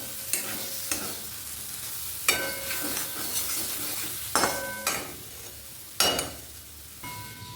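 Soft, overripe mangoes cook in a pan as a utensil stirs them, giving about eight sharp scraping knocks against the pan at irregular intervals over a quiet simmering hiss.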